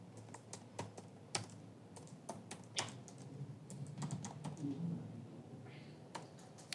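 C code being typed on a computer keyboard at close range, with quiet irregular clicks and keystroke bursts and a low murmur beneath them.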